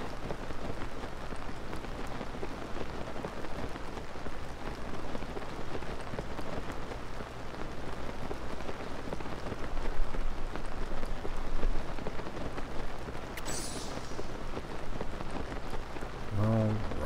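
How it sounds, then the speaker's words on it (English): Steady rainfall in the video game The Legend of Zelda: Tears of the Kingdom patters continuously at a moderate, even level for the whole stretch, with no voices. "And it's raining."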